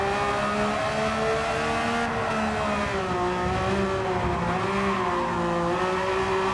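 A Porsche race car engine drones loudly and steadily as it pushes hard through a corner, its tone wavering slightly, with tire noise beneath it in a racing game.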